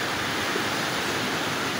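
Loud, steady rush of river water, a dense broadband roar with no pauses and no voices.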